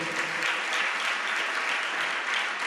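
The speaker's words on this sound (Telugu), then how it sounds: "చప్పట్లు కొట్టండి గట్టిగా" A congregation claps loudly during a Sunday worship sermon at a church. The steady, dense applause fills the whole short stretch with no voices over it.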